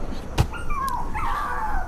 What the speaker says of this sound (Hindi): वो कुत्ता तो कुछ दूर जाकर फिर से भौंकने लगा